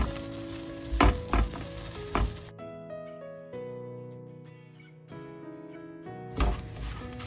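Flattened rice (aval) roasting in ghee in a pan for kesari, a steady soft sizzle with scraping stirs, interrupted midway by tonal music that masks much of the frying before the sizzle returns at the end.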